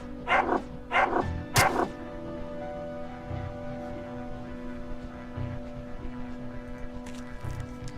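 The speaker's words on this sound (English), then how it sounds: "Oh, more dog. There's always more dogs." Hostile dogs in the UnderRail video game snarl and bark in three quick, loud growling bursts, followed by quieter intermittent grunts over a steady low ambient hum.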